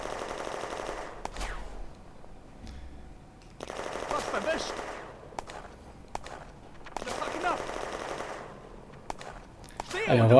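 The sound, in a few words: infantry gunfire in the video game Firefight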